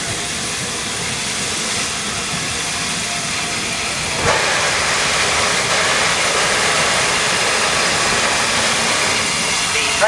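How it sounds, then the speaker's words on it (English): A steam train comes through a station on the Bluebell Railway during a gala, a steady loud hiss and rumble that swells partway through as it draws nearer, alongside a platform announcement. "The train now approaching platform 3 is a through service."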